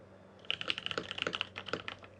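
Typing on a Sirius 60 mechanical keyboard fitted with Butter Cream switches and DSA Alchemy keycaps, a close, quick burst of clacky keystrokes in an uneven rhythm lasting under two seconds.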